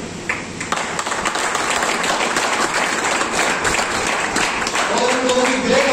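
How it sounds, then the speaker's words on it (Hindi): Sustained, heavy clapping from a seminar crowd fills the room, rising quickly after a brief start and staying full and even to the end. "दूसरा मैं आपकी जोरदार तालियां से बुलाना चाहूंगा सुभाष पवार सर।"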